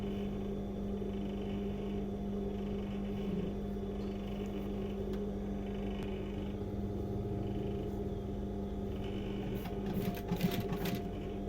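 A sewing machine stitching thick denim while jeans legs are joined runs in a continuous fast mechanical whir with a steady motor drone, with a few sharper clicks near the end.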